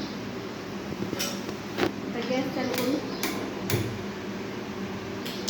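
A metal kadhai is set on the stove before frying alu-leaf vadi. Several sharp clanks and knocks of metal on metal ring out at irregular intervals while someone talks.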